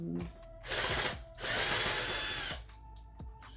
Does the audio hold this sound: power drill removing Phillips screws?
yes